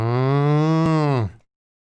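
A single cow gives one loud, close moo that holds steady for just over a second, then stops abruptly and leaves silence.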